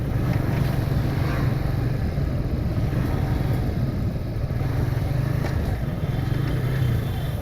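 A Bajaj Freedom 125 CNG motorcycle being ridden, its engine droning steadily and loudly throughout with constant road and wind noise and no speech.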